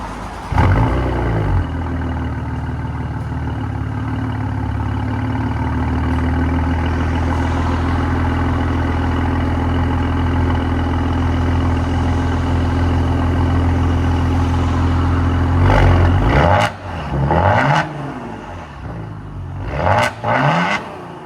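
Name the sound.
Maserati Quattroporte Q4 twin turbo V6 straight-pipe exhaust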